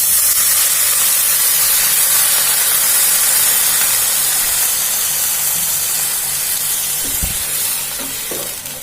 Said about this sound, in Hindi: अभी इसमें वाटर ऐड करेंगे।